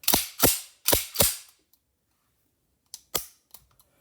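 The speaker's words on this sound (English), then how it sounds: "I'm going to take this slide lock and push in an upward motion and in, and you'll hear it click" Metal clicks and snaps from a 1911 pistol being reassembled, with four sharp, loud clacks in quick succession followed by a pause, then a few softer clicks as the slide lock seats into place.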